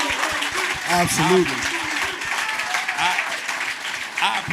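An audience claps and cheers for a guest at a live show with two other guests, the applause running under overlapping talk and a short spoken reply from the stage.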